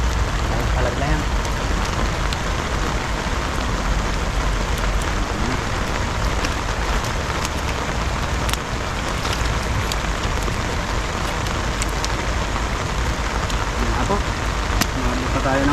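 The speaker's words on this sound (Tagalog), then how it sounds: "ulan." Steady rain patters on surfaces in a continuous, even hiss, moderately quiet and unbroken throughout, with no clear voices over it.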